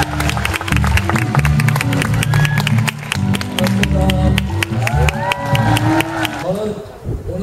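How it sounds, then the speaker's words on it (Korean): An indoor audience at a lecture gives loud, sustained applause to welcome a professor, with dense clapping and a few shouts and cheers, filling the whole stretch. "큰 박수로 맞아주세요"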